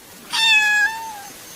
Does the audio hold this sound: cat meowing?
yes